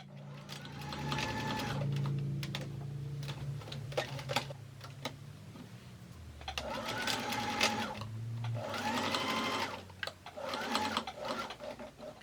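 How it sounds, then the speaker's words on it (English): Domestic sewing machine stitching around the edges of a Victorian waistcoat lining and collar lining, rapid ticking needle bursts that start, stop and restart several times, with a low motor hum underneath. "Then sew around the edges all the way around the waist lining and the collar"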